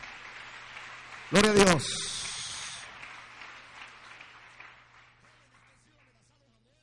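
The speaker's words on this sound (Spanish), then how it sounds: "¿Cuántos dan palmas al Señor en esta tarde?" A church congregation breaks into a burst of hand clapping right after a loud shouted praise, the dense patter trailing off and fading over several seconds.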